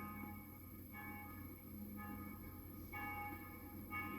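Bells ring out in slow, regular strokes about once a second, resonant tones hanging over a steady background hum.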